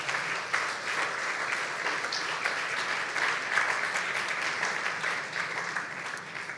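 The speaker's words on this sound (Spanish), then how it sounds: "Alguien alaba a Dios por eso. Denle un aplauso," A church congregation applauds steadily, a dense, continuous clapping that stays loud and even throughout with no talk over it.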